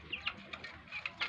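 An executive pigeon gives faint, quick chirping and cooing calls in short bursts close by, over a low background hum.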